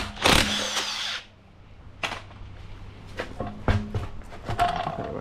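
Power tool, likely an impact gun, spinning off 17mm wheel bolts on a Mercedes CLS with a V8 bi-turbo, in a garage: one loud opening burst, then several shorter bursts and clanks, close up.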